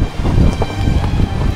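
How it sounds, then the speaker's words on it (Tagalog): Strong wind gusts across a lakeside campsite in Tanay, Rizal, a steady close rumble of buffeting air against the microphone that swells and eases without pause, with no voices. "Abang hindi ganun kalakas pa yung hangin"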